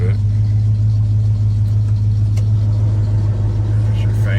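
A cold-started 1985 Chevrolet K10 Scottsdale pickup engine runs at a steady idle, a loud continuous low rumble that holds even throughout, close by with no talk.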